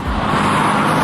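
A 2017 Mercedes-AMG E63 S V8 engine hums in a brief, loud, steady drone.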